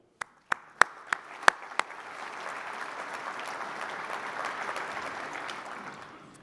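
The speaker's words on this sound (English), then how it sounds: "a quick round of applause remembering those people" Audience applause at a delivery-industry conference, beginning with a few sharp individual claps that swell into a broad, moderately distant round of clapping from the crowd.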